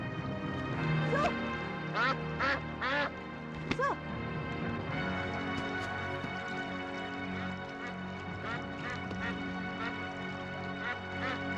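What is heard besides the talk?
belibis (whistling duck) quacking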